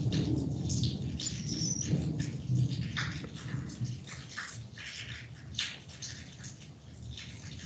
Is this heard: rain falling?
yes